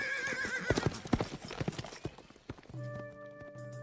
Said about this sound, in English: then spurred on his horse